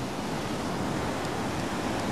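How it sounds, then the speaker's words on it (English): Big surf breaking along the shore at Arbroath in mild November weather, a steady close wash of roaring water mixed with breeze rumble on the microphone. "Waves still breaking."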